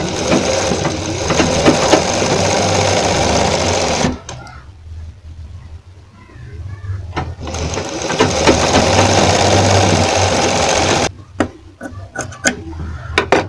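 A sewing machine runs in steady bursts, stitching a frill onto a sleeve, with two brief pauses between runs; the motor's rapid stitching is close and fairly loud.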